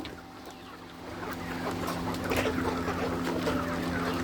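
Tiger-breed chickens cluck and call over a steady mechanical hum at a poultry farm, with a busy, crowded farmyard feel and no talking.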